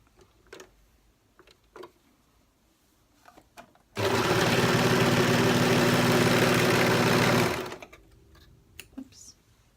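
An overlocker runs in one continuous, loud, buzzing burst of about four seconds as fabric pieces are sewn together, framed by soft clicks and handling noises before and after.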